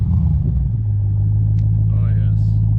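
Idling engine of a Dodge Challenger fitted with a new exhaust, a steady deep rumble close by that holds throughout, with a brief voice over it near the end.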